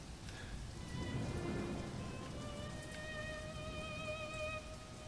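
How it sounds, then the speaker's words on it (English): Video-game rain ambience on a foreboding night in a ghost-town graveyard: soft, steady rainfall with faint rumbling and thin sustained eerie tones running through it, quiet and distant throughout. "Just some rainy ambient sounds on a foreboding night in a graveyard in a ghost town"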